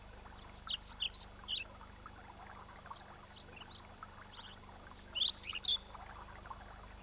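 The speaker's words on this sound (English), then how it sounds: "Many male pied flycatchers have already arrived." A male pied flycatcher sings short, bright chirping phrases in a Welsh woodland in mid-April, two bursts separated by a pause, faint against quiet woodland ambience.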